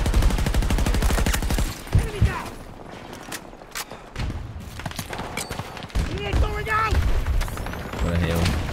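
Rapid automatic gunfire in Battlefield 2042 rattles in dense bursts, drops away, then returns with scattered shots and booms. A voice talks over parts of it.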